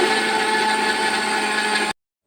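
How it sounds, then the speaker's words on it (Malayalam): A kitchen mixer grinder whirs steadily at full speed for about two seconds, blending wheat flour for puttu in its jar with a constant high motor whine and grinding rattle, then cuts off abruptly into silence. "നമുക്കിനി ഒന്ന് മിക്സി വെച്ചൊന്ന് കറക്കിയെടുക്കാമേ"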